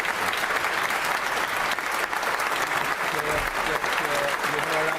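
A crowd of MPs in the UK Parliament chamber claps for Keir Starmer, the applause dense, steady and continuous throughout, with faint voices underneath.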